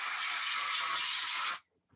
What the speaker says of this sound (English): I'm going to put some on the back of my spray glue